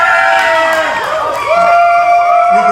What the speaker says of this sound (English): You can tell by the cheering section